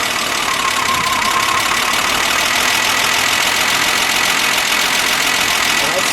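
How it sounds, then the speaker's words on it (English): A 1962 Fiat Abarth 2300 S coupe's engine idles steadily and loudly up close, a smooth continuous mechanical hum with a free-spinning fan. "Let me hear it idle. Now I got to hear it idle."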